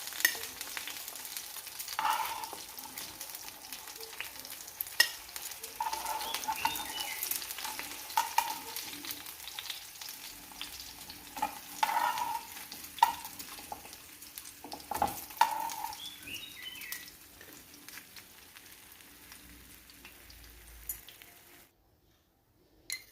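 Fish pieces coated in masala fry quietly in a pan, giving a soft, continuous sizzle with scattered scraping clicks from stirring, until the sound drops away near the end.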